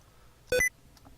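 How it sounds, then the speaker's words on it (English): A brief electronic Windows Sticky Keys warning, a short cluster of bright rising beeps lasting about a fifth of a second, sounding alone against a quiet background. "Not sticky keys."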